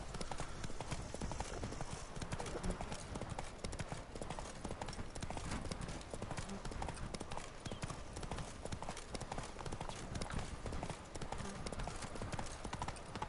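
Hooves of Roach, a horse in the Witcher 3 video game, clip-clop in a steady continuous rhythm over a dense, busy background of game ambience and music, with no talk.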